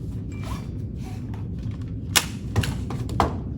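A pistol magazine slid into the grip and seated, a few sharp metallic clicks and snaps near the end over steady background noise and handling rustle.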